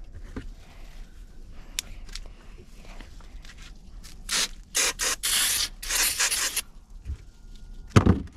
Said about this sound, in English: We're just gonna run our parts here through our parts washer.